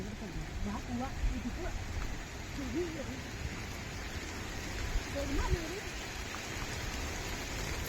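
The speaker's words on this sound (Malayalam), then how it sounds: "നല്ല മഴ പെയ്ത്." Steady rain falls outdoors in Palakkad, Kerala, making a continuous broadband hiss of drops throughout, with people talking over it.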